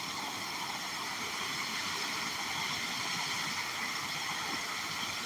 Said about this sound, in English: I love the sound of running water.